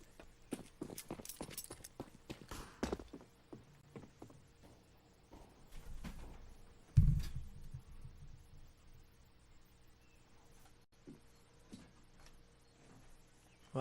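Footsteps sound during a competitive Rainbow Six Siege match in an apartment: a run of sharp, clicky steps at first, then sparser taps and a louder thump midway, fairly quiet against a low background.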